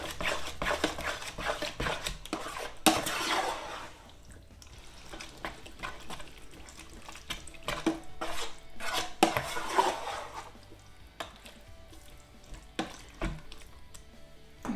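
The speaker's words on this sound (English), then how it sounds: "now we will just give everything a lovely mix through" Beef chilli ingredients being mixed in a dish for the air fryer: repeated clinks and scrapes of a utensil against the dish, with some clatter and irregular bursts of activity, close by and with no talking.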